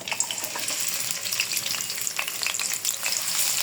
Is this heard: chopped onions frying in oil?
yes